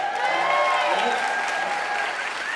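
Crowd applause with scattered whoops and cheers fills a large convocation hall for first-year teachers, loud and sustained for a few seconds before easing slightly.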